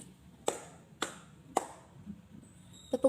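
Three sharp hand claps, evenly spaced about half a second apart, ring out in a classroom guidance-counseling practice session, each a crisp isolated smack with quiet between.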